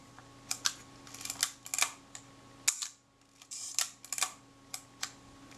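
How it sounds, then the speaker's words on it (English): Small mechanical clicks from the shutter release and film release buttons of a Kodak Retinette F type 022 camera being serviced, a series of sharp, close clicks at irregular intervals with brief quiet gaps. "I'm checking that the shutter release button and the film release button both work."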